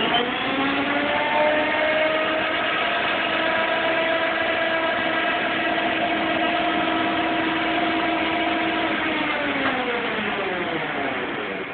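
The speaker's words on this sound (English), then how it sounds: "Very little noise from the motor. Most of the noise is from the transaxle." Electric tractor running at speed in top gear, a steady droning whine from the transaxle with layered tonal harmonics, loud and continuous for the whole stretch, easing slightly near the end, with no talk.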